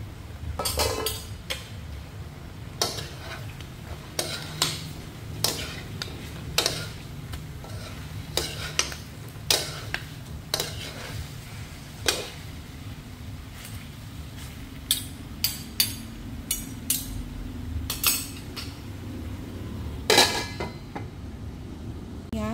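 A utensil stirring Thai red curry chicken in a pan clinks and scrapes against the metal in irregular sharp knocks, fairly close, over a low steady sizzle with no talking.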